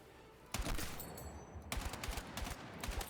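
Assault rifle bursts in Battlefield 6, loud close gunfire in a few clustered volleys separated by short pauses, with sharp cracks over a steady background hum.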